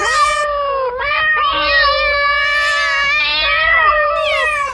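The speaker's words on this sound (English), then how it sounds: "you can really hear all the cats in here" Many cats meowing inside an apartment, loud overlapping drawn-out wails from several animals at close range, one meow running into the next.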